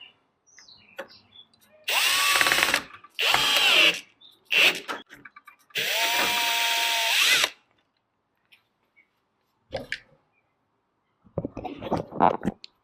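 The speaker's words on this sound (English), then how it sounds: "let's go ahead and drill those into place" A power drill whirs in several bursts while driving screws to install a smart lock, each burst a few seconds long with pitch rising as it spins up, separated by quiet pauses and faint handling noises.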